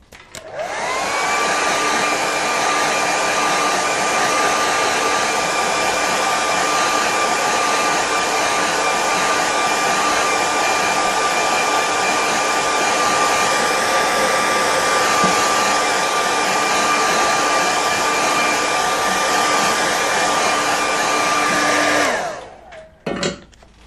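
A hair dryer blowing on watercolour paint, a loud steady whirring roar with a constant whine that starts, runs unbroken for over twenty seconds, then cuts off.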